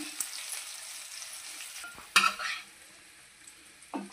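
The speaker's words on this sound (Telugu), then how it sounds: "ఒక 10 నిమిషాలు అలాగ పట్టేస్తే చక్కగా ఏగిపోయినాయి" Bitter gourd pieces frying in a pan give a faint sizzle, with a sharper clatter of stirring midway and another light knock near the end, no voices.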